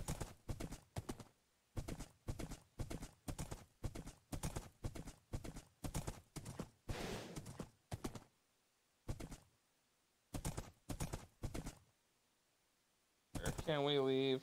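Hooves clip-clop loud and close in a video game, a quick even trot of crisp strikes that stops, resumes in short bursts, then pauses before a horse whinnies at the end.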